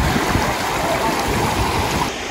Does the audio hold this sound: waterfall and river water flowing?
yes